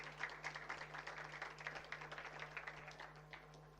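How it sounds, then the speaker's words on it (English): Scattered hand claps come from a small audience at a media pitching talk, with uneven, moderately paced claps over a low steady hum, faint and fairly distant throughout. "Oh, hand claps."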